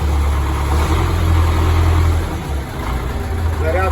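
A YuMZ-6AKL tractor engine with its generator runs at a steady mid-pitched drone, holding revs throughout with a slight dip partway through, loud and close.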